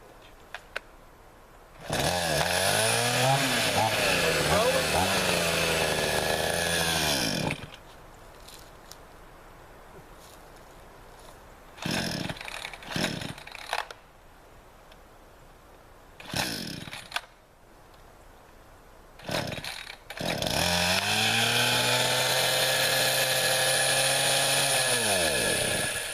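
A chainsaw roars loudly while cutting pecan wood, running in sustained bursts that cut out, sputter and restart before a final long run at full throttle.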